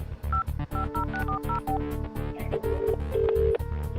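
A telephone number is dialed on a keypad in a dubbed South Indian romantic movie scene, with a quick run of short tone beeps at steady intervals followed by longer held tones over soft background music.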